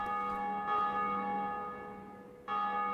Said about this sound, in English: it's a person online actually ringing the bell of awakening